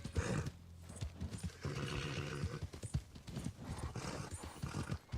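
A Brindle Thoroughbred in Red Dead Redemption 2 gives a loud whinny, and its hooves clip-clop in a brisk, uneven rhythm close by. A game mechanism sounds faintly underneath, with no talking.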